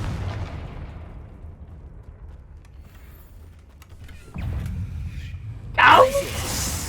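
Confringo spell blast in Hogwarts Legacy: a sharp, bright magical burst erupts near the end after quieter rumbling effects, with someone speaking over the game sounds.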